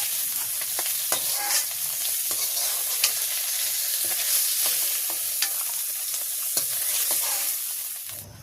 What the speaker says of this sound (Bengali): এই মাছগুলো ভাজি হয়ে গেছে, আমি এখন নামাই নিচ্ছি।